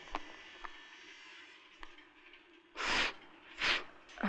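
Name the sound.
sniffling nose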